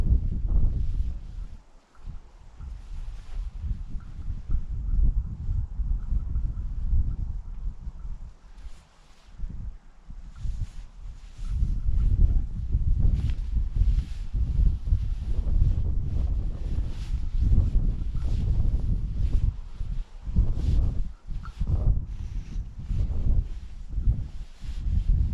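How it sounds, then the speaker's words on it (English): Bitter cold north wind sweeps across a Scottish mountainside near Torridon and Loch Maree, buffeting the microphone in a steady low roar with gusty swells and no talking. "I knew the wind was going to be coming out the north, but didn't expect it to be quite so bitter"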